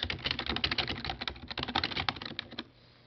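Rapid clicking of keys on a computer keyboard while a Twitter direct message is typed, a close, busy patter of keystrokes for about two and a half seconds before it stops.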